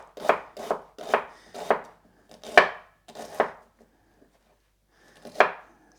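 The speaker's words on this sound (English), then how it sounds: "So here I have some shallots. I'll cut those as well." Shallots being chopped with a knife on a board, a series of close, crisp thunks in a quick run of six or seven, a pause, then one more cut.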